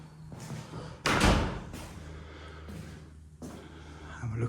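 A heavy wooden door of St John the Evangelist church in Wotton, Surrey, opens with a loud clunk of the latch, then a couple of softer knocks and creaks, with light room ambience.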